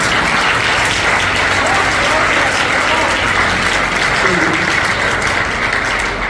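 A church congregation claps loudly and steadily in a dense, continuous burst of applause that fills the room for several seconds.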